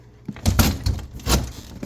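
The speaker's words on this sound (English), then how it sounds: "Let me shut the door." A door being shut inside a house during a dog scent-work search, a few knocks and thuds over about two seconds, fairly close with some rustle and handling noise around them.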